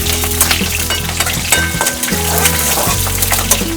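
Green chillies, mace and other whole spices fry in hot oil in a pan with a continuous crackling sizzle, close and fairly loud, with a low steady hum beneath and no speech.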